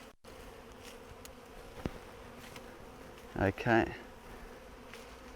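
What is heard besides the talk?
honey bee swarm buzzing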